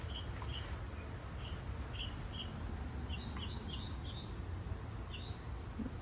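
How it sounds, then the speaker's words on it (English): A small bird sings short, high chirps and twitters in scattered bursts, fairly faint over a constant outdoor rumble and hiss, with no talk. "That bird is so happy"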